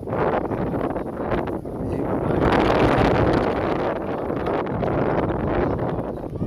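Strong wind at Mayon Volcano roars and buffets against the microphone in loud, continuous gusts, rising and falling throughout with a rough rumble.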